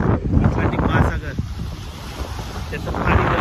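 Atlantic Ocean surf and gusting wind at the coast in Porto, Portugal, with waves washing in and heavy wind buffeting the microphone in loud, uneven rumbles.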